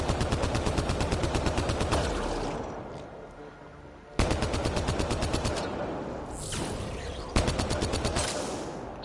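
Rapid automatic gunfire from the video game Mass Effect Andromeda, loud and close, coming in three long sustained bursts separated by brief pauses, with no talk over it.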